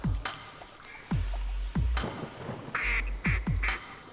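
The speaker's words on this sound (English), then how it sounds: "Let's see if the game cooperates with some more ducks here." Ducks quack repeatedly in the hunting game TheHunter, a series of loud, close quacking bursts arriving in quick succession over a low rumble of background noise.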